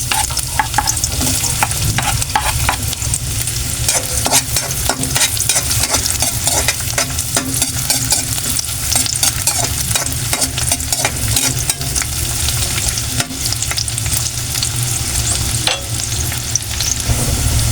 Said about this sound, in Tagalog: mainit na yung ating mantika. Igisa na natin itong ating bawang at sibuyas.